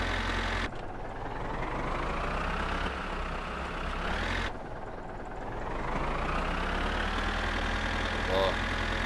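A tractor engine idles and runs steadily in My Summer Car, a loud, continuous low rumble with slight rises in pitch as it revs, alone without talk.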